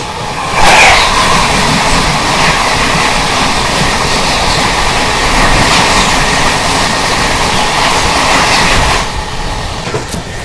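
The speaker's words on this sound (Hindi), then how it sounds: "यहाँ पे आ रही है राजेंद्र नगर टर्मिनल जाने वाली पटना तेजस राजधानी एक्सप्रेस।" The Patna Tejas Rajdhani Express bound for Rajendra Nagar Terminal rushes past at close range, a loud, sustained roar of wheels and rattling coaches that holds steady for about nine seconds before easing off.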